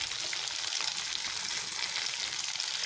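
Chicken pieces frying on a high flame for dry butter chicken, a steady, close, bright sizzle with a crackling hiss that holds evenly throughout without any talk.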